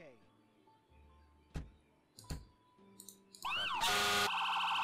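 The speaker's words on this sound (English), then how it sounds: "This is the alarm." After a few sharp clicks, a loud electronic alarm siren from the video game Emergency 4 with a Fairfax County mod blares out for the last second or so, harsh and insistent.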